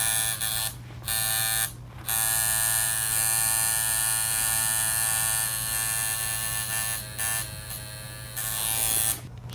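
A tattoo machine buzzes steadily at close range while shading skin, a loud electric whine broken by a few brief pauses as the needle lifts, with no talking.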